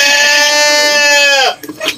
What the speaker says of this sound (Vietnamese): Hai dê, hai dê con cũng bao lắm.